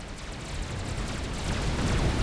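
Artillery barrages from a Forged Alliance Forever real-time strategy battle rumble as heavy, overlapping booms that swell into a dense, continuous roar of explosions, loud and without pauses.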